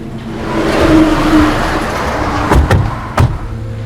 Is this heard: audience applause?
no